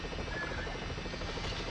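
Helicopter in 007: The World is Not Enough on PS1, a continuous rotor drone with a fluttering buzz, steady and moderately loud with no voices.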